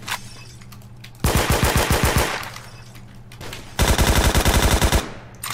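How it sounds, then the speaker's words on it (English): Two loud bursts of rapid automatic gunfire in the shooter game Phantom Forces, each a fast rattling volley of about a second, separated by a quieter stretch of ambient game noise. "You're shooting me around a wall"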